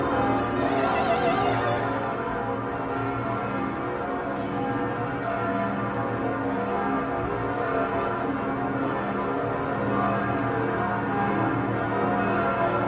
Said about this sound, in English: There's a bit of an organ sound clashing with the bells again.